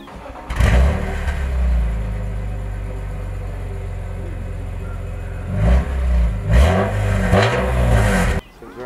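A BMW E46 M3 with a gutted rear exhaust box starts and revs up, its engine rising to a loud, steady roar that holds, then blips again in a couple of sharp rev bursts before cutting off, heard close.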